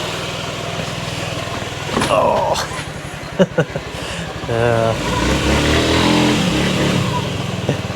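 Small Honda Ruckus scooter engine running and revving nearby, a rising buzzy rev swelling midway with a few sharp knocks, under a brief exclamation from a rider.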